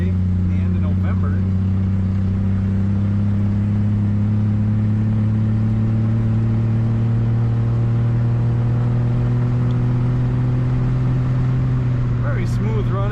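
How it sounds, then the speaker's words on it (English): A 1963 Ford Falcon Futura convertible, driven with the top down, runs with a steady low engine drone and road rumble that hold throughout, and a voice speaks over it. "Very smooth running, smooth riding little Falcon."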